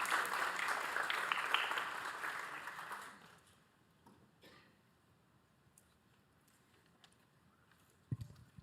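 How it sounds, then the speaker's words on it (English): Audience applause rings out at a school board meeting, a steady burst of clapping lasting about three seconds before fading into quiet room noise with a few faint thumps. "Let's give them all a round of applause."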